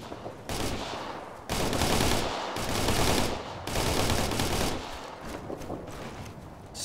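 Sustained automatic gunfire and heavy shooting in the military shooter game Operation Flashpoint: Red River, dense overlapping bursts that continue almost without pause and sound loud and close.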